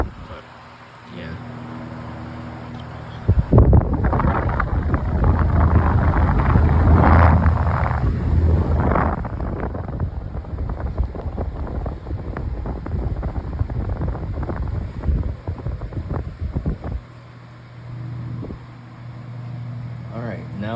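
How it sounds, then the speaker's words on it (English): A vintage Patton 12-inch high velocity floor fan, model U2-1272, whirs with a steady broadband rush that swells into a louder, gusty roar for most of the stretch before settling back to a softer hum. "my extremely powerful and quiet Patton fan from the Vice City Antique Store"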